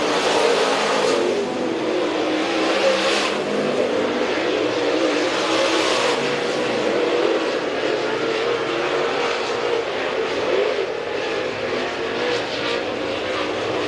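Race cars roar around a dirt track at night, engines droning and rising in a continuous loud wash of sound, with passing surges and no clear talk.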